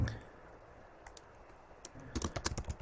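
Keys clack on a computer keyboard during a short bout of typing, a few scattered taps first, then a quick burst of close, crisp clicks toward the end, with no talking.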